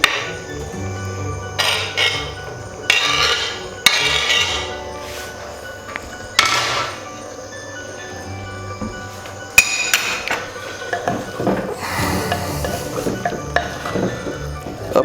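Finely chopped peeled tomatoes tipped into a pan of aloo qeema, with sharp clanks and scrapes of a spoon against the metal pan over a light sizzle, repeated in irregular bursts.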